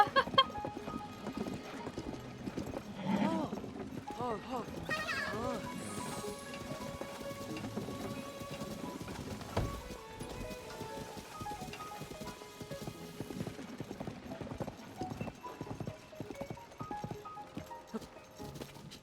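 Horse hooves clip-clop in a steady rhythm for a long stretch in The Legend of Zelda: Tears of the Kingdom, with a soft rain-like hiss and an occasional whinny in the background.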